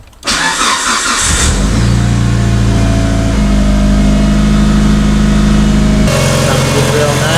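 Mitsubishi Evo 9 Special Edition engine cranking to life, catching and revving loudly before settling into a steady, close idle, with a brief extra blip near the end.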